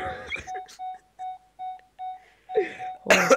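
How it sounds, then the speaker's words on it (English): Electronic beeping in the Alien: Isolation video game: a steady series of about six evenly spaced short beeps, loud and alone, between rustling breathy noises, with a sharp burst at the end. "Elliot, it's still beeping."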